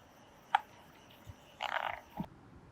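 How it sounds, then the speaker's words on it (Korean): A gold-spotted pond frog croaks from a farm irrigation canal between rice paddies, one short click-like note followed by a brief burst of rapid croaking and a low thump, faint against quiet wetland ambience. "금개구리입니다."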